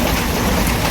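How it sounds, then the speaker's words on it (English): Steady rain falling outdoors, a dense, loud, continuous hiss of drops with no breaks and no voices. "It was raining."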